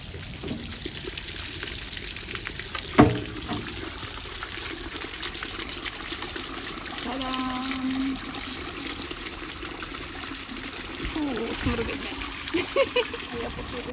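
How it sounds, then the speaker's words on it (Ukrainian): Dirty water gushes and trickles steadily out of a camper van's tank, with metallic clunks and a brief rattle partway through. "І починає виливатись вода брудна."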